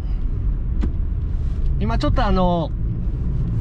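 A late-model 130-series Toyota Vitz with a 1.3 L petrol engine drives along, heard as a steady low cabin rumble beneath a person talking.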